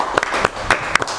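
Audience applause welcoming a guest speaker on a talk show, a short burst of loud, close, scattered claps from a small group, uneven and sparse rather than a full roar.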